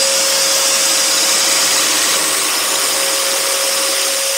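A dust extractor hooked up to a scroll saw drones steadily with a loud, constant airy hiss and a fixed hum, unchanging throughout and without speech.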